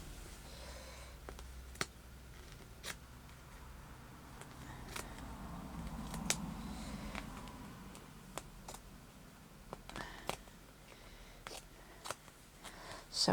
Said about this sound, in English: Just going to cut a piece out of this.